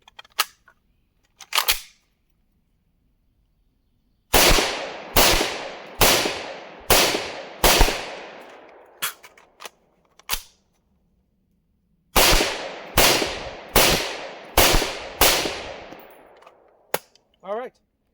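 Gunshots from a handgun fitted with a dot sight, fired at a range: two loose groups of about five sharp, loud reports each in steady succession, with a couple of isolated shots and a faint metallic clatter near the end.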